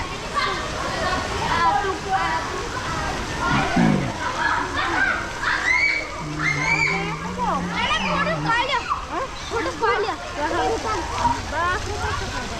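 Fountain water splashes steadily in the Shalimar garden, a continuous bright spatter heard amid a lively crowd of voices, including children chattering nearby.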